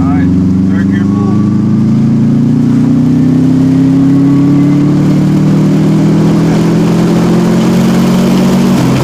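A Subaru WRX wagon's engine pulls steadily in third gear, a loud continuous drone that rises gradually in pitch throughout, heard from inside the car with voices talking over it.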